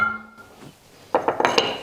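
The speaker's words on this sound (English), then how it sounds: "This is what makes all the noise. There are some special stones inside which later keep the kraut down" Ceramic fermentation stones clink inside a glass sauerkraut jar of cabbage and salt water, a handful of quick bright knocks close by after a soft hum, with no talking.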